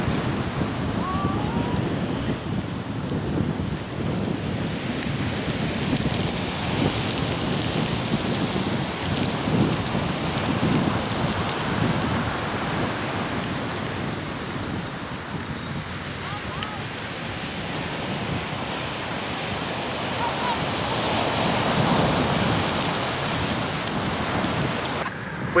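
Big sea waves break on a beach in stormy weather on the English coast at Salcombe or Weymouth, a continuous loud roaring wash with surging peaks and wind noise, heard at length.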